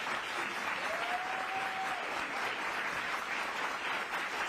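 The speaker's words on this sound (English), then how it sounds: "Let's go ahead and give our panelists a round of applause" Sustained applause from an audience honoring the panelists at a panel discussion on study findings and equity, steady and dense across the whole stretch with no speech.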